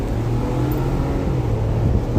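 A Ford Bronco's twin-turbo 2.7-liter EcoBoost V6 pulls hard under acceleration, a loud, dense, steady low engine drone heard from inside the vehicle.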